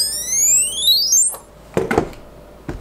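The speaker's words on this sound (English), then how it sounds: "You can see here, got an audio alarm and LED lights." A drone finder tracker device sounds its audio alarm, a loud rising electronic sweep of chirping tones lasting over a second, followed by faint clicks and handling noises.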